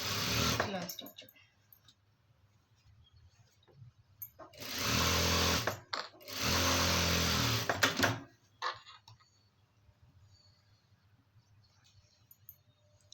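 A sewing machine stitches lining fabric in two steady, buzzing runs of a couple of seconds each. Quiet pauses and soft handling noise surround the runs.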